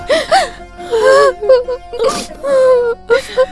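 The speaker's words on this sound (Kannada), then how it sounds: "ಯಾಕೆ ಅಳ್ತಿದ್ದೀರಾ?" A person cries and wails loudly in sobbing, moaning bursts with gasps in between, close and emotional, with no other voices.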